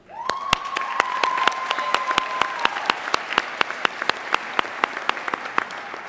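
Audience applause at a university commencement ceremony swells suddenly into broad, sustained clapping from a large crowd, then thins to scattered individual claps, with a single sustained tone running early on.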